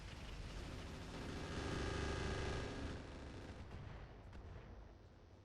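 Indirect missile artillery barrage from a mech in the Zeus X mech video game, a dense rumbling salvo of launches and impacts that builds, peaks midway, then tapers off, with no talk over it.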